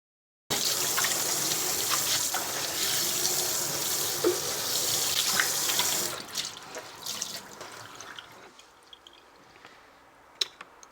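Kitchen sink scrubbed with elbow grease paste and a sonic scrubber, with a steady loud wash of running water and scrubbing for about six seconds, then softer intermittent splashes and drips, no voices.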